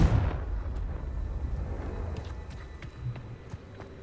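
Fire-blast spell explosions in the video game Hogwarts Legacy rumble as a continuous low roar of booms, loudest at the start and fading to scattered thuds.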